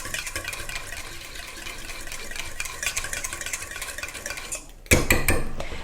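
Preservative is stirred into a cooling after shave gel in a container with soft, continuous scraping and clinking, ending in a louder burst of knocks and rattles, with no talking.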